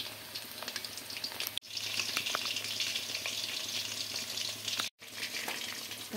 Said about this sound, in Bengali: ওই পিসটা আমার লাল করে একটু ভেজে নেব।